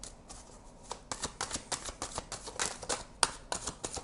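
A deck of tarot cards is shuffled by hand during a reading, a quick run of crisp riffling flicks and slaps, fairly close and steady, with no talking.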